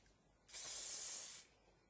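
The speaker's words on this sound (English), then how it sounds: "just need a little bit of spray at the side" A single short burst of hairspray, a steady bright hiss lasting about a second, close to the microphone, with quiet before and after.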